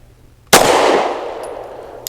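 A single loud, close gunshot from a Springfield Armory Prodigy double-stack 1911 pistol firing hollow-point ammunition, a sharp crack followed by a long ringing decay and a faint click near the end.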